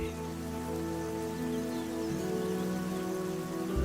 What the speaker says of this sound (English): As the rain falls, tiny rivulets fill up and merge.